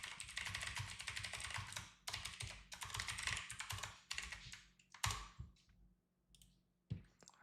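Rapid clatter of keys on a computer keyboard, typed in quick bursts with short pauses, close and fairly loud.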